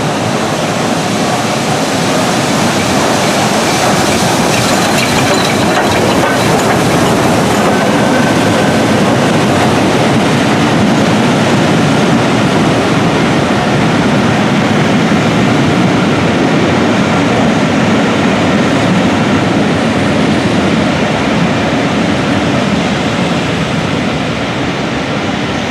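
Pendle Dalesman train rolling along the rails, a steady loud broadband rumble and rush that holds constant for the whole stretch with no talk over it.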